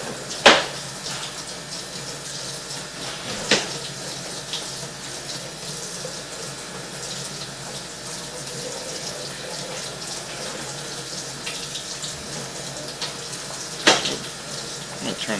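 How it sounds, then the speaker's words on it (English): Water runs steadily from a tap during a home plumbing inspection, a continuous close rushing hiss with a few short knocks and clatters over it. "I'm going to turn the water off here now that we're back up close to the house."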